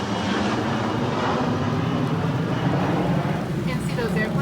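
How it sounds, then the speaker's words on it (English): Airplanes passing overhead as a steady, broad engine rumble heard from inside a Crua Core camping tent while rain falls, the drone holding loud and constant throughout without a clear rise or fade. "You can see those airplanes."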